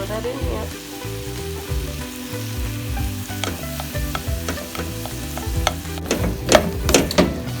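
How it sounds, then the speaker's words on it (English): Butter sizzles with apples in a pan, a steady frying hiss with stirring scrapes and a few louder clatters toward the end, close and continuous, with soft background music and no voices. "we need the other half of our butter. Throw that in here."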